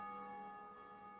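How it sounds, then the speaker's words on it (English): A bell rung to open a gate in Dark Souls II, a sustained metallic tone with steady ringing overtones that slowly fades, heard alone without talk. "Ringing the bell will open the gate."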